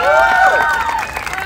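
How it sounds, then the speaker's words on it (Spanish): An audience at a Mexican street clown show bursts into loud, close shouting and cheering, with excited overlapping voices and some applause in the mix. "Regálanos gritos y aplausos."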